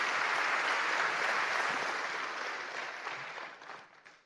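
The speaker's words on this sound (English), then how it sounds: "One more time, big applause." Sustained applause from a conference audience, broad and steady at first, then thinning and fading out toward the end.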